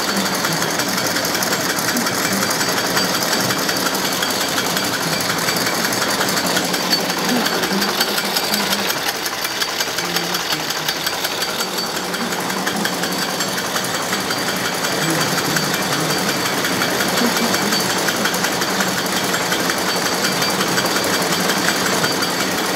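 Pin drafter in a fiber mill running continuously, a fast, even mechanical clatter and whir with a steady rapid rhythm, close and loud throughout without any talking.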